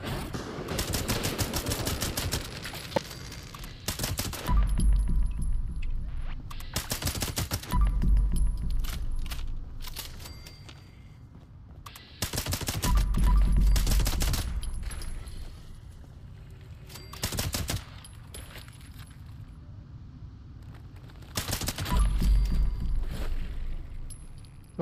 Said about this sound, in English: when those bullets drop, makes a good sound